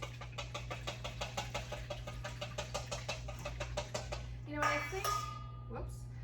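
A whisk beats French toast batter sweetened with maple syrup in a bowl, a fast, regular series of close clicking taps over a low background hum, ending in a short clatter.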